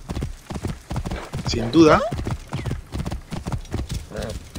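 A horse in Assassin's Creed Origins gallops along with steady, rhythmic clip-clop hoofbeats and a brief whinny, while someone speaks over the hoofbeats.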